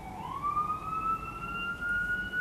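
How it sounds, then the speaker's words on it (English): An emergency vehicle siren wails past on a downtown Tampa street, one rising, sustained tone that swells and fades over traffic rumble. "filming with sirens going by."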